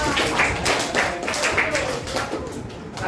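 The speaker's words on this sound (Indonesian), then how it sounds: "Tepuk tangan dulu ya." Group of people clapping hands in a workshop setting, a dense, steady patter of claps with voices mixed in underneath.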